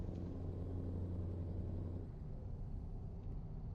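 Steady low engine drone of a modified V8 from a Type R truck in Euro Truck Simulator 2, a constant rumble cruising along that eases slightly midway, with no talk over it.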